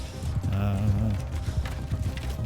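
Cavalry horses galloping across a Bannerlord battlefield, a steady rumble of hoofbeats amid battle din, with a horse-like whinny rising and falling in the middle and voices faintly mixed in.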